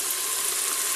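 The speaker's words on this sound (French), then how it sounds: "dans le Cookéo j'ai fait revenir des oignons et des lardons" Onions and bacon bits frying in a Cookeo multicooker, giving a steady, even sizzle that runs close and moderately loud for the whole second with no talk.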